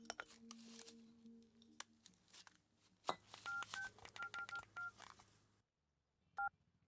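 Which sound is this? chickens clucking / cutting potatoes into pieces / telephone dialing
telephone dialing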